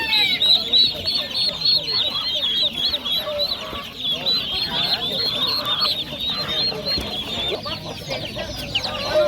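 Turkey chicks and other poultry at a busy outdoor bird market, giving continuous overlapping high-pitched peeping and honking calls close by, with a steady crowd murmur underneath.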